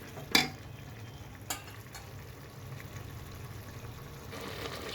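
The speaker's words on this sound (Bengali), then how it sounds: "এই যে আমি এখন বারবার ঢাকনা দিয়ে ঢেকে দেবো এবং কষিয়ে নেব।" Mutton curry sautéing in a pot, with a soft continuous sizzle and a couple of sharp clinks from stirring near the start, quiet and close, with no talk.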